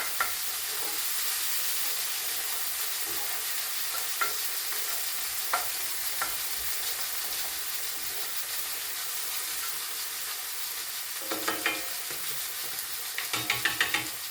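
Chickpeas frying in a pressure cooker, a constant close hiss of sizzling oil with scattered soft stirring clicks, growing busier near the end.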